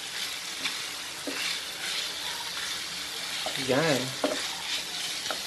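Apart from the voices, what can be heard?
chicken browning in a frying pan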